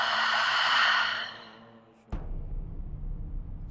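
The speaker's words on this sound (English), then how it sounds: "Take one last deep inhale through the nose and exhale, open mouth." A deep open-mouth exhale in a yoga practice: one long, breathy release that fades out slowly, then a soft knock and quiet room tone.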